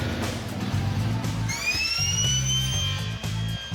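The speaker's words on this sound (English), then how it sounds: "With the auger making a hole" An auger bores a hole in the ground for a concrete footing, giving a loud continuous mechanical drone with a low engine rumble and a rising whine that joins partway through.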